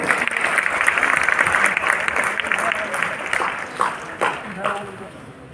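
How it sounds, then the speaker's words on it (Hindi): An audience at a Medha Diwas 2022 event in Gyan Bhawan, Patna, applauds to welcome an educationist onto the stage. The dense, loud clapping fills the space steadily, then gradually thins and softens toward the end. "तालियों से स्वागत।"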